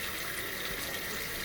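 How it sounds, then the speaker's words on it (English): Water pours steadily into a large seafood boil pot as a constant close splashing rush, short and unbroken. "I'm going to add a little bit more water"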